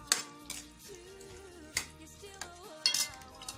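A spoon stirs crushed or chopped onion in a pan, with quiet scraping and light clinks of utensil against metal, a few brief taps standing out.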